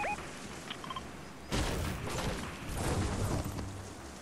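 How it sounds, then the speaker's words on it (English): Muffled bursts of gunfire and booming explosions, a rapid rattling barrage after a quieter start, sounding somewhat distant. "Here, gunfire."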